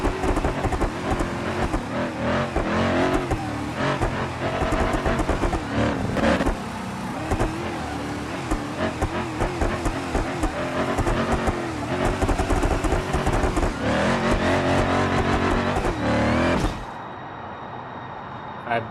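A tuned limousine's race engine in BeamNG Drive revs hard and continuously until it blows, the loud, wavering roar climbing and falling through gears before cutting off to near quiet at the end, with a voice talking over it.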